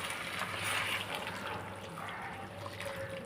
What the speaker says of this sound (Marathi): आता इथे मी बाजूला गरम पाणी केलेलं आहे ते टाकून घ्यायचं आहे